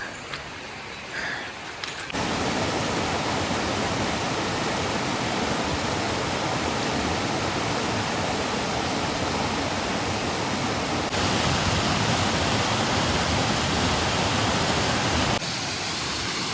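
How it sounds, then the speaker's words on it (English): Waterfalls in Wintergreen Gorge near Erie, Pennsylvania pour into a river, a steady, loud rushing roar that holds without a break, with a quieter moment only at the very start. "Tons of waterfalls."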